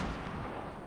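A grenade explodes in the Fortnite video game, a single short, dull boom that fills the brief moment at fairly low level.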